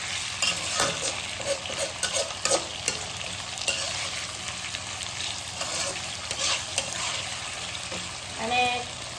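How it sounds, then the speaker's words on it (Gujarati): Vegetables and lentils roasting and being stirred in hot oil for masoor pulao, a steady close sizzle with scraping stir strokes and a few brief voices at the end. "અને 2 થી 3 મિનિટ જેવું શેકાવા દઈશું તેલ સાથે"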